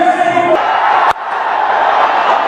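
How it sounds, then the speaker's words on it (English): A loud, dense crowd roar fills a T20 cricket ground as spectators appeal, a sustained yelling swell that dips for a moment and then carries on, with no clear speech on top. "Crowd are appealing more than the players."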